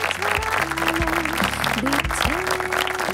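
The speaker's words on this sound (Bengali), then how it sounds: "ওয়ান্স অ্যাগেন জোর একটা করতালি দেন ফর সাকিব।" An audience applauds at a televised singing talent show grand finale, a dense, continuous clapping crowd over sustained musical tones.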